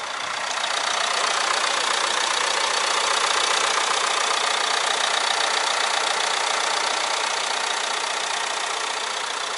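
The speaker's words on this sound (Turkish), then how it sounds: "Motor sesimiz gayet iyi." A 2017 Mercedes-Benz C200 d diesel idles with an even, unbroken hiss and engine drone that stays at a constant level throughout, with no voices.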